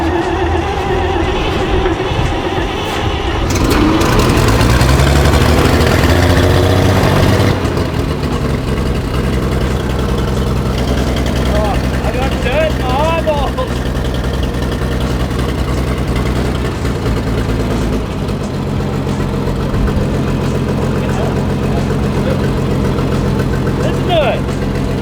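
An abandoned WW2 army truck, sitting for 30 years, cranks and fires up, its engine revving loudly nearby before settling into a steady rumbling idle, with people talking over it.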